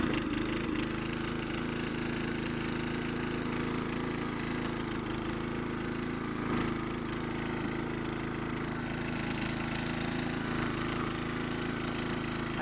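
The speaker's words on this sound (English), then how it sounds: "But this is the tiller in action." A garden tiller churns through soil ploughed the previous fall, its small engine running steadily at close range with a constant rattling drone and slight surges, and no talk over it.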